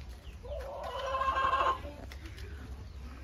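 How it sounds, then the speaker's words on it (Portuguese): Hens cluck in a backyard coop, a short burst of close, moderately loud fowl calls rising and fading over a low, steady background. "Que eu vi a galinha aqui, ó."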